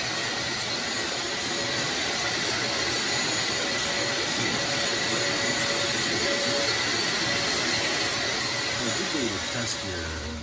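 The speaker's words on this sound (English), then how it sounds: "The little downdraft booth is working good. You can see the overspray that it's sucking in." A small downdraft paint booth extraction fan runs during spray painting of a model car body, a constant loud rushing drone with a regular faint ticking above it.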